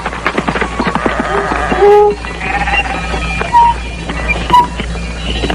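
Sheep bleat in a shepherd's shelter set into a recess of a plateau. Several short, wavering calls rise over a steady low rumble and clattering ambient noise, with no voices.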